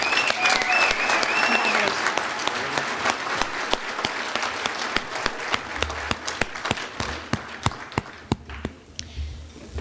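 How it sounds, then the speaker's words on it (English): At a hospitality industry awards banquet, the audience applauds students, a moderately loud round of clapping with distinct sharp individual claps that thins out toward the end, with brief talk at the start. "Please give these students a big round of applause."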